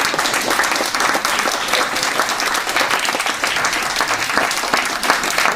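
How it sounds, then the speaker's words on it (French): Audience clapping loudly for a choir at a charity telethon concert, a dense, continuous burst of applause close and full, with no talk over it. "On va les applaudir un peu plus fort, avec un peu plus de verve"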